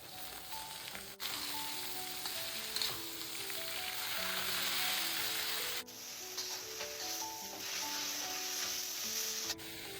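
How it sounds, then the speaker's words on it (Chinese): Pumpkin shoots stir-fried in lard with garlic and dried chili segments sizzle steadily and loudly, with scraping stirring strokes over the hiss and background music playing throughout. "扣一点猪油来炒南瓜碘，先放点大蒜还有干海椒段的"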